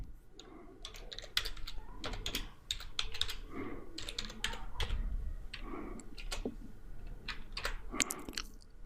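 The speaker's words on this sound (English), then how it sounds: "So I'll just type in my email address." Someone typing an email address on a computer keyboard, a close, quiet run of irregular clicking keystrokes in quick bursts with short pauses, no talking.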